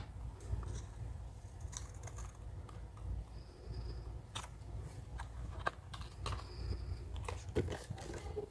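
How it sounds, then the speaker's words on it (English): Scissors snip through paper while a mini gift box is made, a series of faint, brief, crisp cuts spaced irregularly against a quiet background. "What you need to do is to cut your paper at an angle."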